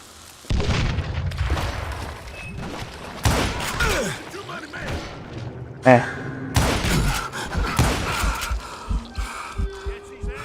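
Gatling gun fire in the Western shooter Call of Juarez Gunslinger, heavy booming bursts and thuds that come and go over about ten seconds, loud and close, with someone talking over parts of it.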